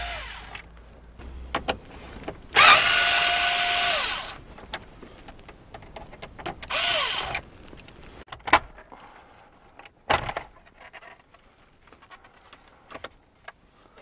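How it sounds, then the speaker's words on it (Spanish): A power drill removing two screws from a car dashboard panel during a Pioneer AVH-4200NEX stereo installation, heard as two short whirring bursts between clicks, knocks and rattles of handling, close-up and with no speech. "para desmontar esta parte hay que sacar estos"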